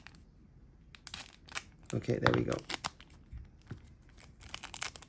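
A blade slicing and tearing open the foil wrapper of a Magic: The Gathering booster pack, with crinkling and ripping bursts close by, partly under a brief spoken remark.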